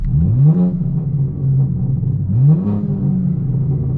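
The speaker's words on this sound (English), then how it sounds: "Now I'm gonna put the valves on, burbles on, engine in Sport Plus." A BMW M4 Competition xDrive's engine revs twice with exhaust valves open and burble mode on, each blip rising sharply then settling into a deep, close, rumbling idle with crackling burble.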